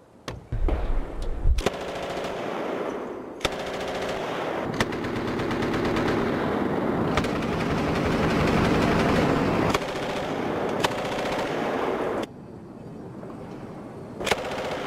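M249 squad automatic weapon firing on full auto in an urban combat setting, with dense sustained bursts running loud and continuous for most of the stretch, sharp cracks breaking through and a quieter tail near the end.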